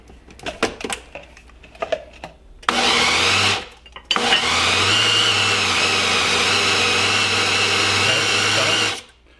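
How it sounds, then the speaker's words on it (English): A kitchen blender grinding sugar for crème brûlée, starting with a short loud whirring burst, a brief pause, then a long sustained high-pitched grinding run that cuts off; faint clatter and handling sounds come before it. "So what we're trying not to do is grind up the sugar. So that's why you need to pulse it"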